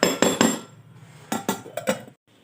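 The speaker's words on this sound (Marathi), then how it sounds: "आता यावरती आपण झाकण ठेवून घेऊ" Lid set on a container of green chilli and sprouted fenugreek pickle: a quick series of sharp, close metallic clanks and taps, several in a row, then a brief pause and faint handling.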